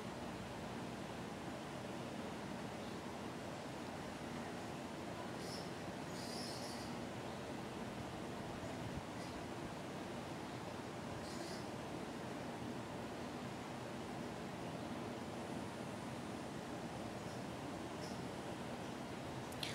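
A mixer grinder blends mango with wheat flour milk in a continuous, steady whirring roar that holds at an even level from start to finish.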